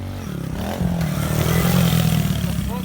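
Pit bike engine held against the rev limiter, a loud, close, buzzing rasp pulsing as the limiter cuts in, with a voice shouting over it.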